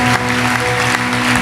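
A church congregation applauds together in a steady, dense wash of clapping that fills the whole room at loud volume without a break.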